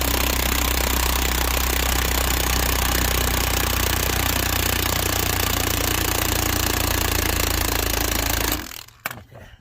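An impact wrench with a 3/4 inch socket raises the scissor jack under a Chrysler Pacifica, hammering loudly and continuously for about eight seconds before cutting off into a few light rattles.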